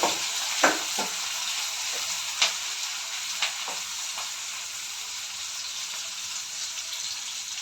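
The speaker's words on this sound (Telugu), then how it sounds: "ఆనియన్ మంచి కాలితే చికెన్ కర్రీ టేస్ట్ బాగా వస్తుంది" Onions frying in oil for a chicken curry, a continuous soft sizzle broken by a few sharp clinks and scrapes of a spoon against the pan, close and even, with no one talking.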